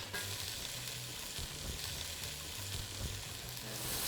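Chopped onion fries in a pan with a steady, dense sizzle, close and even throughout, with a few faint stirring scrapes and no talking.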